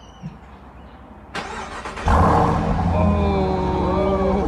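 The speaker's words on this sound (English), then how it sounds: "Oh, heck yeah, dude, it fired right up. Hey, it ain't even that loud." A rebuilt Jeep engine cranks and fires up cold, settling into a steady, fairly loud exhaust rumble close by after a brief starter whir, with people talking excitedly over it.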